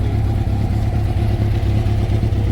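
A 1987 Honda CBR 600F Hurricane motorcycle idles close by, a steady, loud low-pitched engine burble with even pulsing and no voices over it.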